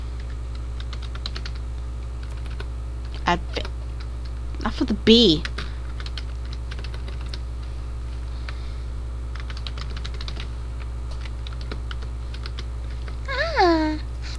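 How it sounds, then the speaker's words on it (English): Clacking of a new computer keyboard being typed on, faint and intermittent in the background beneath a steady hum, with a few brief bursts of talk over it. "so if you hear it clacking in the background, I apologize."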